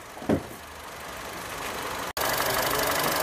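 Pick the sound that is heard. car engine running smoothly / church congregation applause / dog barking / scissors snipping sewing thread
car engine running smoothly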